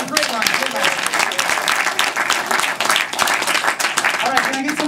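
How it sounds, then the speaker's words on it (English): Audience applause at a ComedySportz improv workshop show, dense clapping sustained across the whole stretch at steady loudness, with voices and shouts mixed in over the top. "Give yourselves a round of applause"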